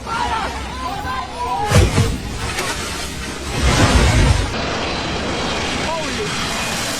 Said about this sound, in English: An Airbus A321 flew just 9 feet above people's heads in Skiathos.